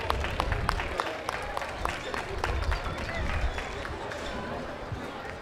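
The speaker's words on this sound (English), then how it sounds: "Give her a round of applause real quick" Audience at a school livestock show gives a quick round of applause, sharp scattered claps in a large room with crowd murmur underneath.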